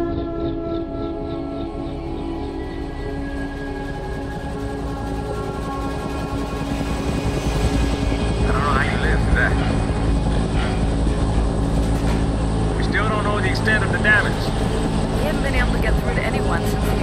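In the F.E.A.R. video game, a helicopter's steady, droning engine hum holds throughout and swells a little louder partway in, with faint mechanical clicks on top and no voices.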